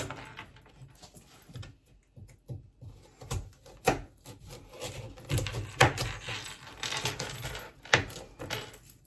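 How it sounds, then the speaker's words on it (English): Cabbage and carrot chopped on a board for soup, giving a string of sharp knife knocks at an uneven pace, some bunched together, close and moderately loud, with no talking. "So this is the cabbage I'm gonna cut up."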